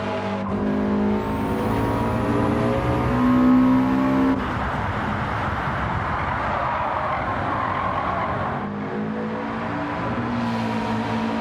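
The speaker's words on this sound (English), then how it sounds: "The Boxer engine sound is fully on offer here." Subaru Impreza boxer engine in the game Gran Turismo 7, revving loudly and steadily with a sustained droning note that peaks early then holds at high revs throughout, with a brief tire-squeal-like whine near the start.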